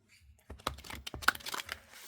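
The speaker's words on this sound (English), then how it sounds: "These are a little bit hard to shuffle because they're just like paper" Paper oracle cards being shuffled by hand, giving a run of soft, close crisp flicks and riffling rustles with no talk over them.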